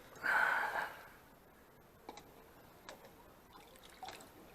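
A short hiss and splash of Aldi window cleaner liquid bursts out at the start, then a few faint drips and small wet taps follow in a quiet room.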